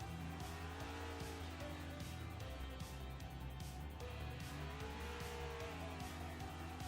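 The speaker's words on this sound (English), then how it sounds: "Double and triple burnouts as some of his teammates join in on the fun." Several race cars in the iRacing sim at Homestead-Miami doing simultaneous burnouts after a series finale, with steady revving engines and continuous tire squeal throughout, loud and close with no talk.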